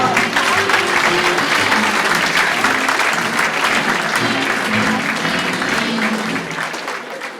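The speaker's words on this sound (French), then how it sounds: "Vous pouvez les applaudir." An audience at a World Dance Day event at a chalet gives dancers sustained, dense applause, a loud steady wash of many hands clapping that holds for several seconds before tapering slightly at the end.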